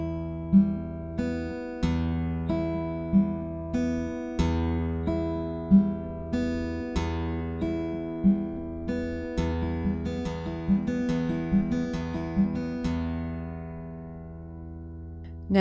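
Fingerpicked acoustic guitar in a steady thumb-middle-thumb-index pattern, its evenly spaced plucked notes ringing over a repeating bass note, clear and close, alone with no voices.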